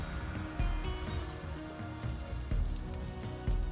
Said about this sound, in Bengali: মশলাগুলো একটু সুন্দর করে ভাজা ভাজা করে নিতে হবে